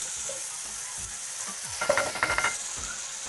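Chicken sizzles in a pan with garam masala, a steady bright frying hiss close by, with a spoon scraping and stirring in short strokes near the end.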